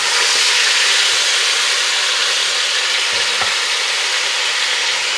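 A whole pound of bacon fries on high heat, giving a loud, dense, unbroken sizzle and hiss close by with a faint tap or two underneath; no voices.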